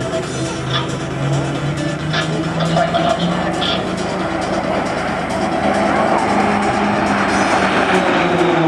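RAAF Roulettes display aircraft pass overhead at an airshow, a loud, sustained propeller engine roar that swells and drifts as the formation performs, with speech faintly mixed in.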